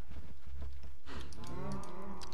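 A Minecraft cow lets out a single long, drawn-out moo, clear and close, following some softer farm-animal grunts, with no talking.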